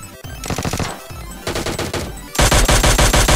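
PUBG Mobile gunfire cracks out in quick automatic bursts, loud and close, building from separate volleys to a dense rapid stream of shots at the end.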